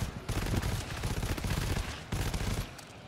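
Rapid automatic gunfire rattles through a video game, close and dense, with a short break partway through before the bursts resume.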